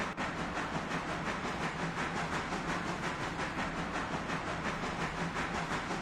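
A train rolls along the track in the Railroader video game with a steady rumbling hiss and a regular clickety-clack of wheels over rail joints, moderately quiet and continuous, no voices.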